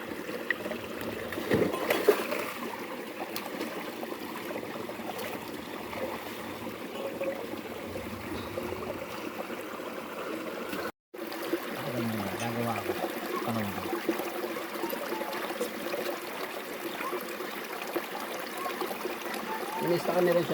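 River water flowing past a riverside lunch spot, a steady rushing trickle and burble running continuously beneath people talking and moving about nearby.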